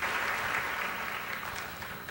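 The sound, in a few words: audience applause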